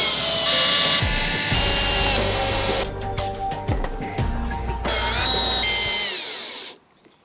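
A cordless drill drives screws while walls are fastened onto the base of a wooden mystery box, giving loud, close bursts of whining motor with short pauses and clicks between them, then a final run that winds down as the battery dies.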